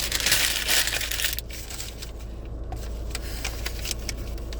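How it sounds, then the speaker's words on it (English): Tarot cards are shuffled close by, with a burst of dense riffling and crinkling at first, then softer, scattered flicks and rustles over a low hum. "now I'm gonna shuffle"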